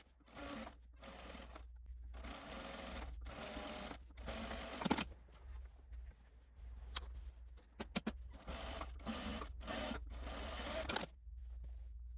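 A home sewing machine topstitching two rows along a shirt's front yoke, running in repeated bursts of rapid mechanical whirring broken by short pauses, with occasional sharp clicks between runs, close and clear.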